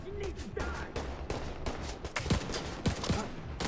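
An AKM rifle fires in the game The Division 2, with rapid bursts of shots close and loud, running almost without a break under game noise and a faint voice.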